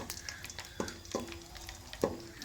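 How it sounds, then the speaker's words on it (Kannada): Mustard seeds and green chili sizzle in hot oil for puri oggarane, a soft steady frying hiss close by, broken by light stirring clinks and a few brief tonal scrapes. "ಸಾಸಿವೆ ಹಾಕಿದ ನಂತರ ಬಣ್ಮೆಣ್ಸಿಕಾಯಿ ಸೇರಿಸ್ಕೋಬೇಕಾಗತ್ತೆ ಇದಕ್ಕೆ ಇದೆರಡೂ ಒಂದೆರಡು ಸೆಕೆಂಡಷ್ಟು ಬಾಡಿಸ್ಕೋಬೇಕಾಗತ್ತೆ"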